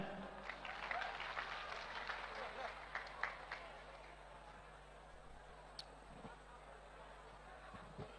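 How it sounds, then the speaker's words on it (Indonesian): An audience claps in a large hall at a university religious lecture, a scattered burst that swells over the first few seconds and then fades, heard faint and distant with a steady low hum. "Beri tepuk tangan."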